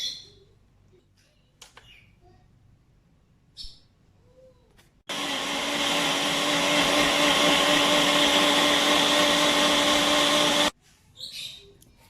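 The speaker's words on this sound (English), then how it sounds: "My onions in the blender, and I'm going to blend this for a few minutes." An electric blender whirs loudly for about six seconds while chopping onions for dumplings. Before and after it there are only faint kitchen knocks and what may be a bird chirping, with no talking.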